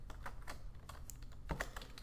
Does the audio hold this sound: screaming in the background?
no